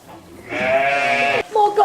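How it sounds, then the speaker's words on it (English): A sheep gives one long, wavering bleat lasting about a second, close and loud, followed by a brief pause and a couple of shorter vocal sounds. "More goth sheep."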